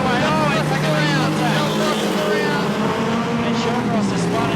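National 4's speedway race cars in a Queensland title A-Main at Carina Speedway, engines droning loudly and continuously as several cars lap the track, with a commentator talking over the roar.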